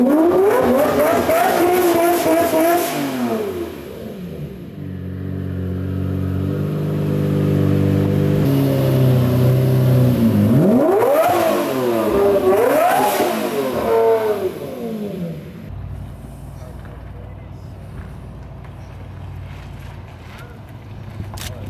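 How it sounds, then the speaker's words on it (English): A 1:1 replica Lamborghini Murcielago engine revs loud and close, its pitch sweeping up and down through several throttle blips before dropping to a lower, rougher idle. "I know it's like impossible to hear me with this car going,"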